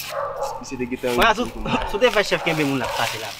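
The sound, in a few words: dog barking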